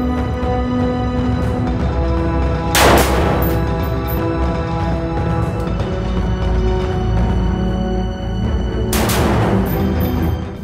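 A Ukko's Hammer rifle fires two loud shots about six seconds apart, each a sharp blast with a ringing tail, over a steady background.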